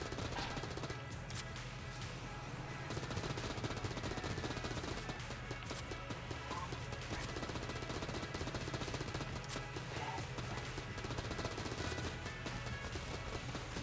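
Rapid-fire gun in Enter the Gungeon, a dense unbroken stream of quick, loud shots crackling on without pause over steady game music and effects.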